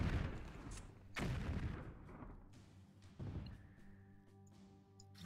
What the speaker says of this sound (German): Das ist eine Kanone, die kann natürlich weiter schießen.